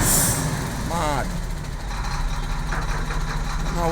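Trucks in a dirty town street give a loud, steady engine rumble with air-brake hiss and short rising electronic reversing beeps. Voices are mixed in close by.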